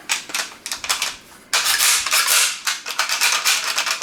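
Sharp metallic clacks and rattles from handling an airsoft Scar-style rifle with a polymer lower and CNC aluminum upper, close up; the charging handle gives one loud snap partway through followed by continued clattering.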